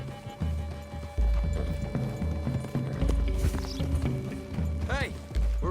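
Horses galloping in Red Dead Redemption 2 during a bear-hunting outing, a steady run of hoofbeats close by, joined by creaking tack and a whinny, with voices talking over the riding.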